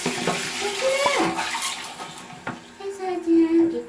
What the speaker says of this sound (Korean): 얼굴은 샤워기를 못해, 칭칭아.